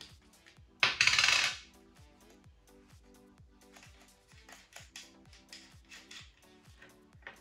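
Small metallic scraping clicks repeat in a quick rhythm as a coin twists the battery cap of an Osa laser-sighted 18x45 pistol, with one brief sharp hiss early on.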